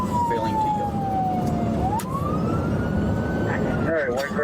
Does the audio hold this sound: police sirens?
yes